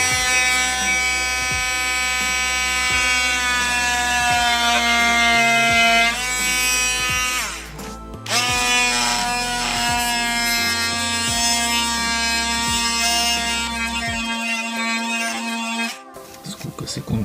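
An oscillating multi-tool saw cuts chipboard with a loud, steady buzzing drone, pausing briefly twice before cutting out near the end.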